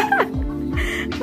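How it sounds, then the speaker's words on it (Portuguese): Chickens on a rural farm in the countryside give a few short clucks and gliding calls nearby, one near the start and more in the middle, over faint background noise. "Oi, as galinhas."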